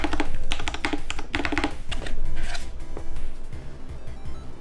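Close, crisp typing on a mechanical keyboard fitted with a metal Game Over artisan keycap, quick irregular clacks in bursts with a slightly metallic ring to some strikes.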